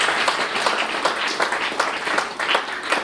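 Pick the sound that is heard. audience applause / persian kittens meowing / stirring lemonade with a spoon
audience applause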